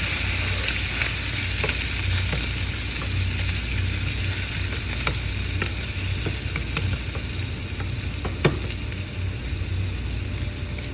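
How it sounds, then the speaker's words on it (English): Bacon and a tablespoon of minced garlic frying together in a hot pan: a steady, even sizzle with scattered pops and crackles and a constant low hum underneath, with no one talking. "now we got the bacon going"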